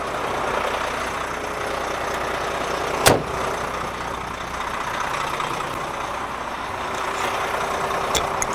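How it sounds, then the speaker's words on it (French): A vehicle eases backward onto snow chains laid flat on the ground, its engine a steady low idle rumble throughout, with one sharp metallic clank near the middle and a fainter knock near the end. "Puis on peut désormais reculer le véhicule une première fois."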